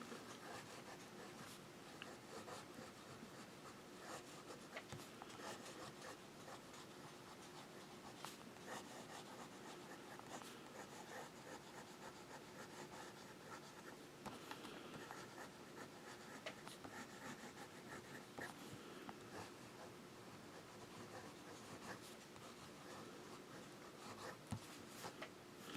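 A Conklin All American Raven Black fountain pen with a wet-writing nib scratches softly and continuously across paper in close, faint strokes, with no speech.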